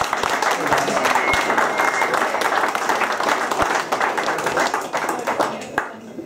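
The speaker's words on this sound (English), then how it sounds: "What a round of applause for Daniel Lynch and Simon Cadham" Sustained round of applause from a crowd at a Gaelic football event, dense steady clapping continuing for several seconds and fading slightly toward the end.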